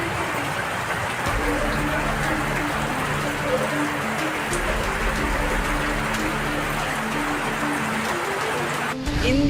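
Heavy rain hisses steadily over flooded streets of Sirsi town, with a vehicle passing and voices talking faintly in the background.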